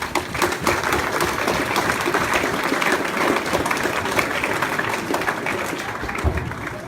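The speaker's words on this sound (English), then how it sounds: "So give yourself a massive round of applause for doing that." Graduates at a summer youth programme ceremony burst into a loud, sustained round of applause and cheering, dense clapping holding steady from start to finish.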